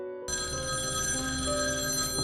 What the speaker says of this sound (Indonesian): Tak lama kemudian, telepon rumah berdering.